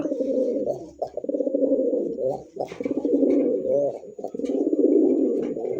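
A male pigeon, a red indigo bird among stock for sale, coos close by in repeated low throaty phrases with short breaks between them, dominating the clip over faint background noise.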